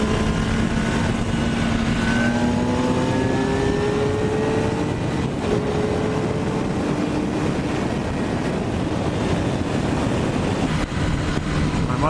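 A 2018 Kawasaki ZX-10R motorcycle engine climbs in pitch as it accelerates on the road, its rising tone partly buried under constant heavy wind rush.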